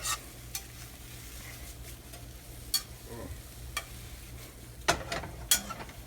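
Onions cooking gently in a pan for chicken chardonnay, stirred now and then with a few sharp utensil clicks and scrapes over a low, steady sizzle; no talking.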